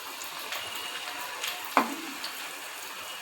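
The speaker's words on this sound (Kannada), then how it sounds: "ಅದನ್ನು ಫ್ರೈ ಮಾಡ್ಕೊಂಡು ಬರ್ತೀನಿ" Small badami puri deep frying in hot oil, a steady soft sizzle with bubbling and one sharper splash or clatter partway through, fairly quiet and close, with no talking.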